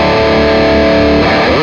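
A heavily distorted electric guitar through a Heavy 51 lead channel amp simulator in Overloud TH-U plays sustained chords, loud and saturated, with a slide into a new chord near the end.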